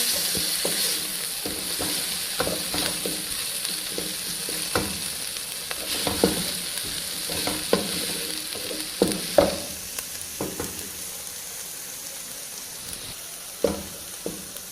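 Garlic sizzling in a hot pan with a constant crackling hiss, broken by frequent scraping and stirring knocks, close up and without talk.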